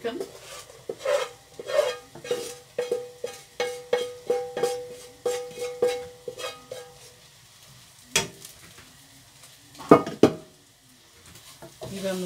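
Bacon dropping into a hot pan for bacon-and-egg farofa, with bursts of sizzling and frying among repeated stirring and clinks of utensil against the pan, followed by a couple of louder knocks.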